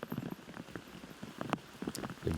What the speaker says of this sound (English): Playing in the rain takes a little bit to get used to.